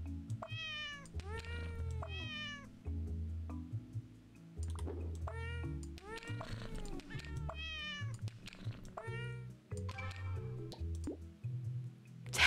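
A cat meows repeatedly in the game Cats Organised Neatly, a series of clear, close meows spaced across the stretch with soft plops and drips between them and no talking.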